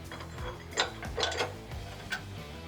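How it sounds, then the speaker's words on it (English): A ratchet wrench tightens the main frame bolt of a rock slider on a Nissan Frontier D41, giving a few soft clicking and clunking strokes at close range over a low mechanical hum, with no talk. "Tighten up the main bolt running through the frame"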